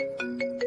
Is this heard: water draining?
no